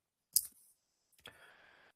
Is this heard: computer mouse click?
yes